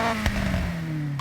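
Volkswagen Golf Rallye on race exhaust in Forza Horizon 6 gives a short, loud, close rev that drops slowly in pitch, punctuated by quick crackling pops.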